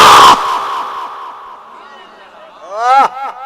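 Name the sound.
crowd shouting response to takbir slogan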